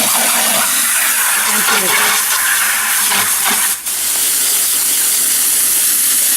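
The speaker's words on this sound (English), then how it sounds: "I'm just going to rinse it out, and it's good enough once I rinse it out" Drywall tools being rinsed with water, a steady loud hissing rush of spray running throughout with a brief dip near the middle, while someone talks briefly over it.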